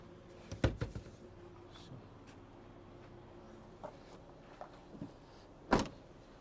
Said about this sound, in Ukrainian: Третій ряд розкладається дуже просто і так само просто складається.